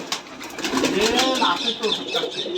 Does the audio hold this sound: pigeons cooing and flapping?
yes